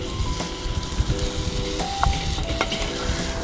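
Bison meat sizzles loudly in a pan outdoors in the wind, stirred with sharp metal clinks and scrapes over a dense, close frying hiss.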